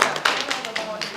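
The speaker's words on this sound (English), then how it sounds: "Let's give them a round of applause" Brief applause from a community meeting audience for volunteers, a quick run of evenly spaced claps heard under a talking voice.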